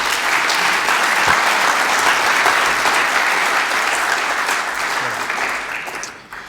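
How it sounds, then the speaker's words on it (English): An audience at an audit conference applauds, a dense, steady burst of clapping from a large crowd that holds evenly and then tapers off at the end. "Give him a big applause."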